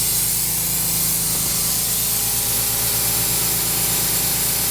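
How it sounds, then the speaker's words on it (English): A continuous loud, hissing spray from a machine, running steadily throughout with a low mechanical hum underneath and no pauses. "very clear which machine is the machine that you want to be doing your spraying"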